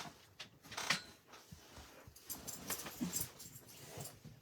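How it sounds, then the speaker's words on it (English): A dog whimpers and whines close by, eager for a ball to be thrown, in a few soft, uneven bursts over quiet room noise. "He wants to play ball."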